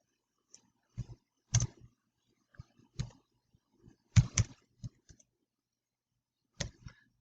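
Scattered keyboard clicks come in small irregular bursts separated by quiet gaps, close and fairly soft, with no voices.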